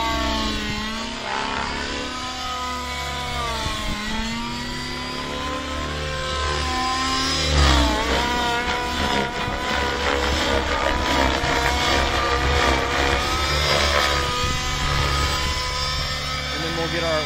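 An RC helicopter fitted with a new Quickdraw exhaust pipe hovers and shifts through orientations, its engine droning steadily with rising and falling pitch, loud and close, with a voice talking over it.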